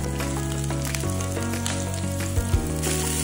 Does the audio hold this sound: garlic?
yes